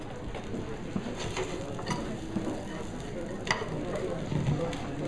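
Mange tout sizzles steadily in a hot pan during a cooking demonstration as it is stir-fried, with a continuous frying hiss and occasional light clicks of the utensil moving the pods, close and moderately quiet.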